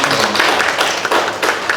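A seated audience at a talk on fighting corruption claps together in a short, dense burst of steady hand claps that fills the room briefly.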